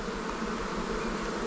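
Honeybees at an open hive with sealed and unsealed brood, a steady dense buzz of many insects close by with no talk, holding an even level throughout.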